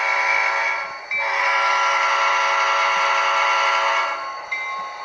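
A model locomotive sound from a Tsunami 2 DCC sound decoder running loud and steady, with a whistle-like tone and a brief dip partway through, heard close up with no talking.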